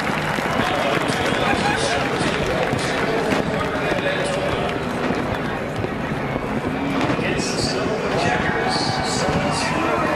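A packed grandstand roars at Daytona International Speedway after a NASCAR Cup Series overtime win, a loud, dense, unbroken wash of crowd noise with a commentator talking over it.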